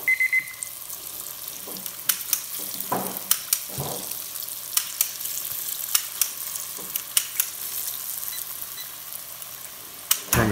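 Homemade Frito-style corn chips fry in hot grease, giving a steady close sizzle with scattered sharp crackles and pops and an occasional stirring clatter.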